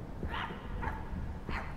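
A dog in the video game My Friendly Neighborhood barks in three short, mid-loud yaps spaced across under two seconds, set against a steady low background hum.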